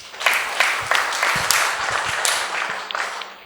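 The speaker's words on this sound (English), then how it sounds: "Give her a round of applause." Small group applause at a talk on greatness through service, a short round of scattered hand claps at moderate level, fairly close and without talk over it.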